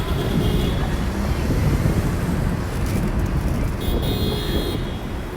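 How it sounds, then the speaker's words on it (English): Car horns beep briefly in busy Midtown Manhattan street traffic, a few short tones poking out of a loud, constant roar of engines and wind buffeting the microphone. "As the cars honk"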